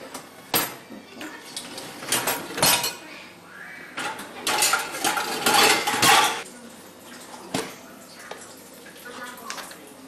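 Dishes, glasses and cutlery clatter and clink in irregular bursts by a dishwasher in an Indian kitchen, close by, with some running water and a few faint voices in the background.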